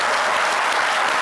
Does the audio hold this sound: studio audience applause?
yes